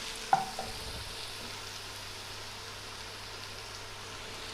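Shallots sauté in a pan for stuffed black pearl spot pollichathu, giving a soft, even sizzle. A light utensil clink sounds near the start, then the frying continues steadily.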